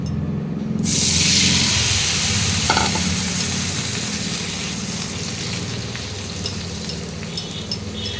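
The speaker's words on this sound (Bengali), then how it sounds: "এবারে আমি টমেটোগুলো ছেড়ে দিচ্ছি।" Tomatoes drop into hot oil with panch phoron and burst into a loud, steady sizzle that holds close for several seconds while a spoon stirs through the pan.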